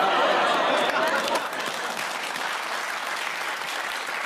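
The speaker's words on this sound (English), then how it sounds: "Started off as a groan. They thought about it. Thought, no, they deserve a clap." A studio audience at a British comedy news panel show lets out a brief groan that gives way to sustained, fairly loud applause mixed with a little chatter and chuckling.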